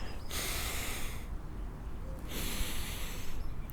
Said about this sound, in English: outward breath